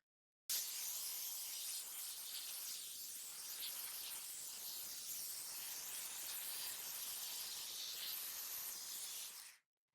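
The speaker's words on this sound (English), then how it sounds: "So that was me just setting out the lowest level, and you could see how much steam it actually produced." A handheld steam cleaner set to its lowest level sprays steam as a steady, close, broad hiss that holds evenly for about nine seconds and then cuts off abruptly.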